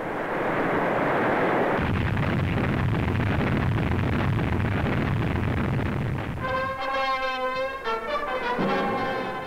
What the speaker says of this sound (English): Day after day, American bombers pound and punish the Third Reich.